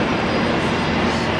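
A Transavia/KLM Boeing 737-7K2 airliner at Brisbane Airport gives off a steady, broad jet engine roar, loud and even throughout with no voices.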